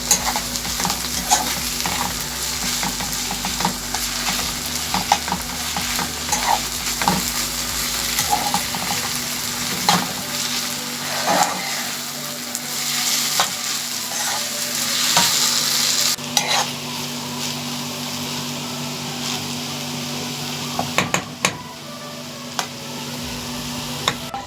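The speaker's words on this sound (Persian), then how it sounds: "رب رو اضافه میکنیم و میذاریم یه رو 20 دقیقه تو شعله خیلی کم حرارت بخوره." Tomato paste sauce for macaroni cooking in a pan over very low heat, a steady close sizzle with frequent scraping stirs and clicks running throughout, no voices.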